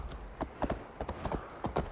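Hooves of a horse clip-clop in quick uneven steps in Assassin's Creed Valhalla, a series of close, fairly quiet thuds over a low ambient bed.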